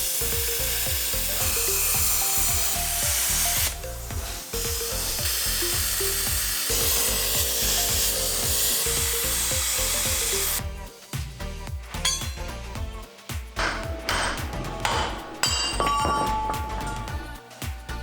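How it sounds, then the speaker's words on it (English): A plasma cutter and an angle grinder cut brackets off the axle of a Dodge Durango, giving a loud, continuous harsh hiss and grinding whine with steady rhythmic pulses that grow rougher and more broken in the second half; no voices. "I get to the fun part, playing with the plasma cutter and grinder."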